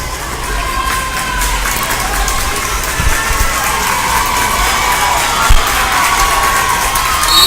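A crowd at a high school basketball game cheers and shouts continuously, a loud, dense wash of young voices with a couple of thumps standing out.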